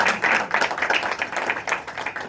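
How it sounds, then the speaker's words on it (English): Audience applause at a school board of education meeting, a close, brisk patter of many hands clapping for a couple of seconds with no talk over it. "give them a round of applause"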